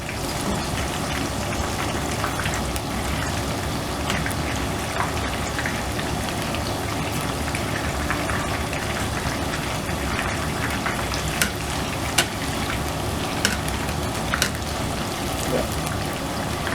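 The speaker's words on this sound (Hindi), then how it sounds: "इसको 2 मिनट तक फ्राई करना है इसको।" Chicken lollipops fry in hot oil, a dense, rain-like crackling sizzle that runs steadily and fairly close, with scattered louder pops.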